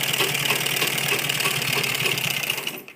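A sewing machine runs steadily as it stitches a kurti back neck design, a close, fast, even mechanical whir with rapid rhythmic ticking that cuts off at the very end, with no voices.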